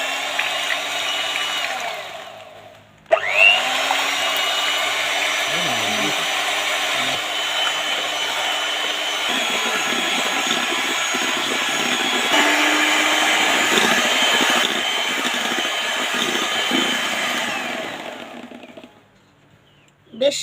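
Electric hand beater whipping Amul fresh cream in a bowl, a loud steady motor whine running without a break for about fifteen seconds after a short quiet start, then cutting off.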